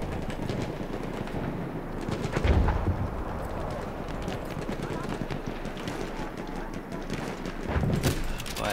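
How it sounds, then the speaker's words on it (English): Mortar fire in the World War I shooter Battlefield 1: two heavy, muffled booms land several seconds apart amid a dense, continuous clatter of battlefield gunfire and noise. "Oh god, there's those mortars."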